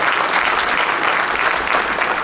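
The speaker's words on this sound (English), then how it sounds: "Let's give him a round of applause, everybody, and welcome." A crowd at an NAACP meeting breaks into sustained applause to welcome a young first-time voter, a dense, steady wash of many hands clapping at once, loud and close, with no pauses.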